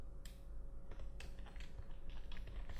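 Quiet clicking keystrokes come from a computer keyboard as text is typed in an irregular, close rhythm over a low steady hum.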